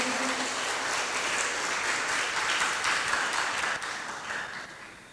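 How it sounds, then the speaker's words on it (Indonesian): An audience in a talk show hall applauds to welcome a speaker to the stage, a sustained wash of many hands clapping that holds steady and then begins to fade toward the end. "Kita sambut dengan tepuk tangan Bapak Ibu."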